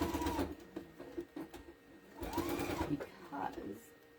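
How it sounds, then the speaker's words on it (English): A sewing machine stitches fabric for a hanging bag in short bursts of motor whir and needle rattle, with pauses between runs and a person talking in the background. "So then I just sew it on."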